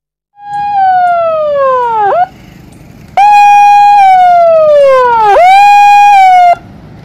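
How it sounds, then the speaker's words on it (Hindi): A loud river warning siren wails in long sweeping tones, each falling in pitch before cutting off, with a short pause between the two blasts, in Jamshedpur. "चलो नदी से बाहर निकलिए, सायरन बज रहा है।"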